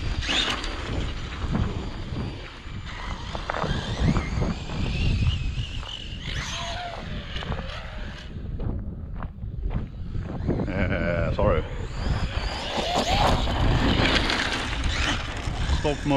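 A Traxxas MAXX RC truck with a 6S-powered motor and stock steel C drive shaft whines and revs in bursts over rough outdoor ground, loud and close, with wind-like noise and surging pitch sweeps.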